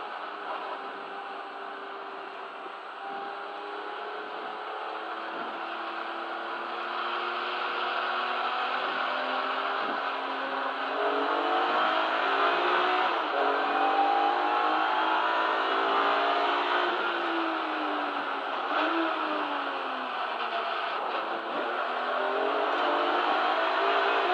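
Race cars of the Kumho BMW Championship pulling away from a standing start at Donington Park, a loud sustained engine roar with several rising revs and gear-change steps overlapping as the pack accelerates.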